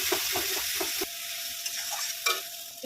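Spices such as turmeric, chili and cumin powder sizzle in a pan with already-fried shrimp and onion, a steady close fry broken by rhythmic scraping stirs and a faint tonal hum, with no talking.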